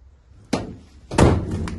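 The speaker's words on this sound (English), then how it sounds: "Passenger side sliding door to finish off" A van's passenger-side sliding door is closed in two solid strikes, a short thump and then a louder slam, both close by.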